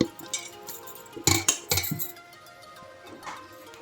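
Food is spooned from a big bowl into a small vessel, a few close metallic clinks and scrapes of a spoon against the dishes, clustered in the middle, then quieter.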